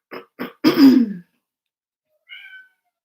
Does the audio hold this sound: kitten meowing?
yes